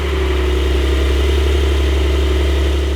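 A 2022 Porsche 911 Turbo S fitted with a sport exhaust system rumbles at a steady, loud idle, a deep continuous engine drone with no revving and no voices.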